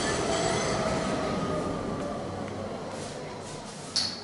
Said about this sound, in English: You can even notice that tram 15 passing by